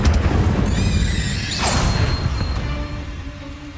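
Incendio fire spell cast in Hogwarts Legacy: a loud whooshing burst with a sharp crackling flare midway, over a dense continuous game backdrop, with a ringing tonal shimmer fading afterward.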